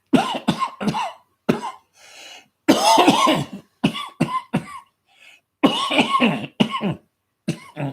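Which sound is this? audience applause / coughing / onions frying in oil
coughing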